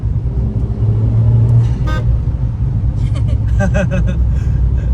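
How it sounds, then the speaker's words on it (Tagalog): A car horn toots briefly over a rumbling engine inside a moving Suzuki kei car, with a few short beeps near the end. "I love the hello horn."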